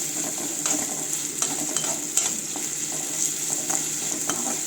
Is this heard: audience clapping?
no